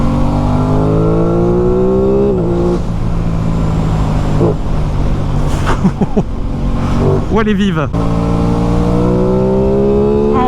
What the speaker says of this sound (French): Heureusement qu'il y a le bruit du moteur